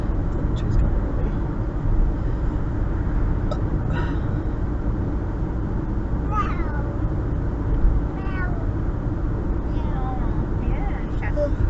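A house cat meows several times, short rising mews scattered across a steady rumble of a moving vehicle on a Canadian road trip, with people talking nearby.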